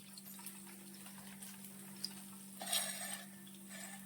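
Broasted chicken frying in oil, a faint continuous sizzle with soft stirring and the occasional clink of a utensil, under a steady low hum.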